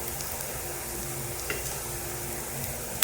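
Chilli fish being stirred as it fries in a pan with long-cut green chillies, chopped coriander leaves and garlic, a steady soft sizzle with faint spoon scrapes, quiet and close, no talking.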